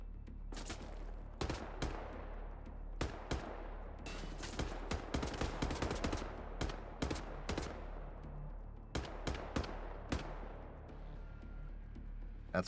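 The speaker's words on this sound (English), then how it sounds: "Pull out the rifle. Get some range shots out." Rifle gunshots in a video game crack out in a fast irregular volley of sharp, loud reports with brief echoing tails, some shots bunched into rapid bursts, heard alone without talking.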